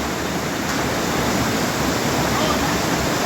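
Water rushes steadily down a nature river in Jamaica, a loud, continuous broadband roar close at hand with no breaks or other distinct sounds.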